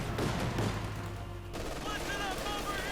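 An MG-42 machine gun fires in the Company of Heroes 2 game, a dense, rapid stream of gunfire running through the whole moment while a commentator talks over it.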